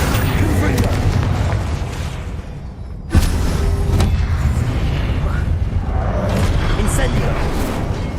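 A Confringo spell explodes during combat in Hogwarts Legacy on PS5, a sudden loud boom partway through over continuous dense game noise and rumble, with other spell and combat sounds around it.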